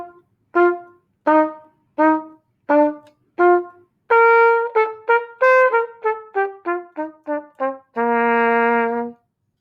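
Staccato notes, light and detached, played as a string of short, clean pitched tones separated by silences, first evenly spaced, then a quicker run, ending on one longer held note.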